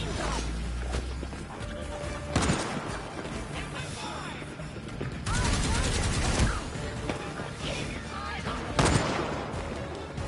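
Automatic gun turrets fire in Gotham Knights, loud bursts of rapid gunfire repeating in several volleys over a dense game soundscape with crashes and impacts.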